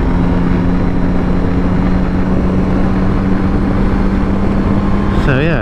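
A 2024 Yamaha Tracer 9 GT+ motorcycle drones steadily at speed under heavy wind rush, its engine note holding constant before a quick pitch dip and rise near the end as the quick shifter changes gear.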